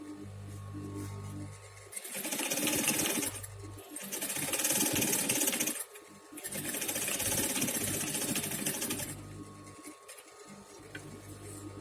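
A sewing machine stitches the inside seam of an old handbag under repair, running in three sustained loud bursts separated by short pauses, with a steady low hum beneath and brief quiet gaps between runs.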